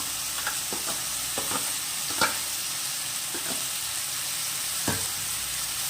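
Tomatoes with turmeric frying in a pan make a steady, close sizzle, broken now and then by short scraping stirs of a spatula, with no voices.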